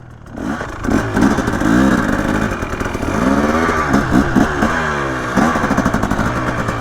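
A Yamaha YZ250 two-stroke dirt bike revs hard on a hillclimb at Brushy Mountain, close and loud, its engine note rising and falling repeatedly as the throttle is worked throughout.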